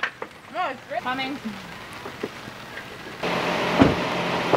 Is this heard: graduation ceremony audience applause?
no